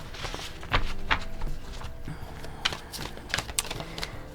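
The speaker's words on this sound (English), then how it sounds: "let's shuffle a little bit more." Tarot cards being shuffled by hand, a soft papery riffling and a run of crisp taps and flicks at a close, moderate level, with no talking.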